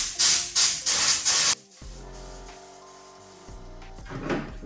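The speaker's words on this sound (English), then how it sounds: "But just going to do a test spray before I spray the lights." A spray gun loaded with Raptor coating paint gives several loud, hissing test bursts in quick succession up close, before headlight blackout work on a Y62 Nissan Patrol; the bursts stop and low, quiet noises follow.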